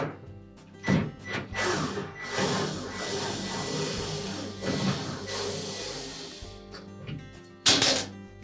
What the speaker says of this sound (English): using either a number 2 posi-drive or a number 2 Phillips screwdriver, we'll remove those two screws